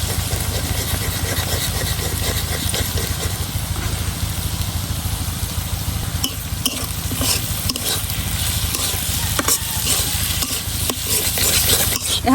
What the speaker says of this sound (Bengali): এখন ডিমের সাথে পেঁয়াজ কলি আর আলুটারে খুব ভালো করে নাড়ায় মিশাইয়া